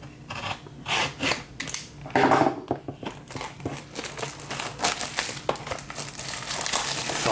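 Foil wrapper of a 2020 Topps Inception baseball card pack being ripped open up close, a steady run of crinkling, tearing and rubbing with a few louder bursts, no talking.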